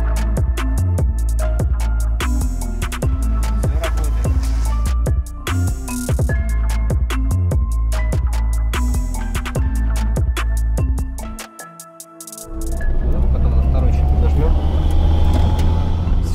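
A tuned 200 hp Daewoo Matiz pulls away, its loud engine note punctuated by rapid gear-change pulses, a brief drop near the end, then a strong surge of acceleration; voices talk over it.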